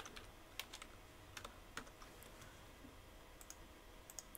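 Typing on a computer keyboard, with soft irregular key clicks and a few sharper taps spread across a quiet room.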